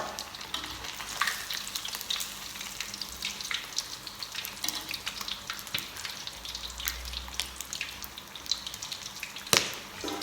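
Snakehead fish frying in fish sauce, a steady crackling sizzle with sharp pops and spits, fairly quiet and close, alone without voices.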